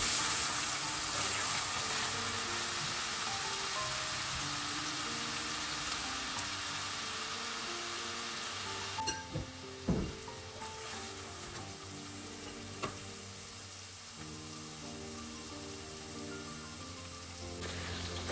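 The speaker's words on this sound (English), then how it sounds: "you need to stir until the onions and the garlic are nice and soft" Onions and garlic sizzling steadily in a pan, a continuous bright frying hiss with occasional soft clinks and scrapes of stirring, the sizzle quieting partway through; no voices.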